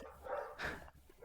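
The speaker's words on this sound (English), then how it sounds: "Yeah, we can hear the dog noises." A dog gives a couple of short, mid-pitched barks, spaced apart and fairly near, with no one talking over them.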